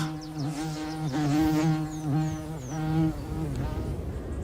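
Bees buzz around early-flowering hellebore blossoms, a close, wavering drone that rises and dips in pitch as they move among the flowers.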